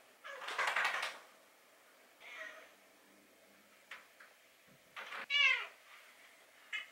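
A domestic cat meows several times, loud and close, in short separate calls with quiet gaps between them; a brief human sound may come in near the end.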